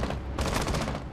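Rapid gunfire from a Rainbow Six Siege match, a dense burst of overlapping shots that starts mid-clip and stays loud and close for about a second, with no talk over it.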